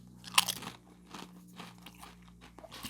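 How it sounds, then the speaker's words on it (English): A sharp but slightly soft crunch as a Pringles Hot Flamin' Cheese potato chip is bitten, then quieter chewing and crackling, close up with no talking. "The crunch of these chips is not as crunchy as some other chips."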